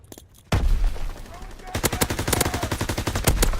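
Rapid machine gun bursts in the World War II shooter Call of Duty WWII: a sudden loud burst, then a dense, steady stream of close, sharp shots, with a player's voice briefly at the start.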